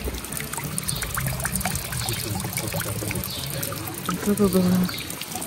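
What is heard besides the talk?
water running from an unusual tap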